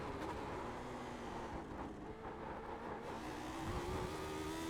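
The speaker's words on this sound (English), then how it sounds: "once you get your car settled, it's full on throttle time" Lotus 79 race car from a racing video game at full throttle around Imola, a steady loud engine drone with a rising pitch toward the end, alone without talk.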